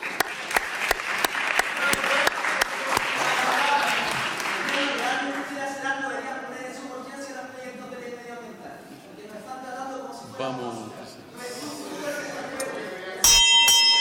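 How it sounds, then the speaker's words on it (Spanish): Applause at a special session of a parliamentary chamber breaks out after a guest from the Fridays for Future youth climate movement is introduced. Steady clapping fills the room at moderate loudness, with voices audible and a brief bell-like tone near the end. "Un aplauso."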